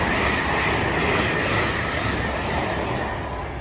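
A Pendolino train, running from Crewe to London Euston, rushes through Bletchley station as a steady, loud rumble and roar of wheels on rails that stays level and fades slightly near the end.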